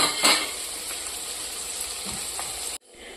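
Crumbled millet rotlo fries in a pan with onion, chillies and spices in a village kitchen, giving a steady close sizzle with a few utensil clinks, then cutting off abruptly near the end.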